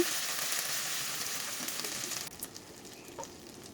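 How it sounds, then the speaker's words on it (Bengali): Onion frying in a pan with whole garam masala and ginger-garlic paste for a chicken feet and liver dish, a steady close sizzle that drops to a quieter crackle partway through, with a few faint stirring scrapes. "এক টেবিল চামচ আদা রসুন বাটা দিয়ে দিয়েছি দিয়ে এটাকে আবারও কিছুক্ষণ ভেজে নিচ্ছি"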